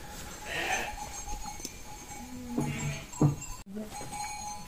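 Karya sheep on a farm give a few short bleats amid scattered pen noises and a metallic knock, moderately close, with faint voices in the background.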